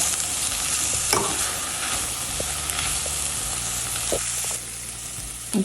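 Seasoned beef sizzling in a pot as a spoon stirs it, a continuous close frying hiss with occasional scraping knocks and no talk.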